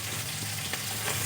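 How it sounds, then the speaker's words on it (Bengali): Fish frying in hot oil, producing a steady, dense sizzle that continues unbroken and fairly loud for the whole short stretch. "মাছগুলো আমার ভাজা হয়ে গেছে"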